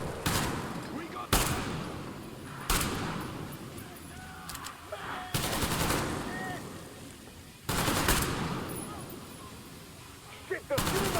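Gunfire in the video game Metro Exodus: sharp bursts of shots and automatic fire hit at irregular intervals across the scene, loud and close, with voices shouting between the volleys.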